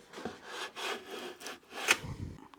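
A hand saw cuts along the grain of pine wood, steering the blade around a curve for a butt-jointed box, about four slow rasping strokes close up with brief pauses between them.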